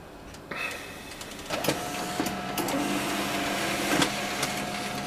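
Desktop printer printing a race evaluation sheet: motor whirs, clicks and paper-feed clunks come in bursts, the mechanism getting busier and louder toward the end, with no talking.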